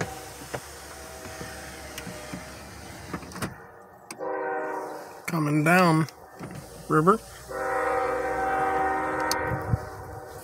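A train passes on a snowy Sunday, a low steady rumble with a horn-like tonal blast in the middle and a sustained tonal drone in the second half, under someone talking briefly.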